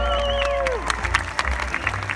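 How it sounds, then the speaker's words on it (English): Audience at a Hawaiian luau show breaks into applause and light cheering as an amplified announcer's voice trails off, clapping steady for about a second and a half. "can we get a round of applause for our master chanter, Kaleo?"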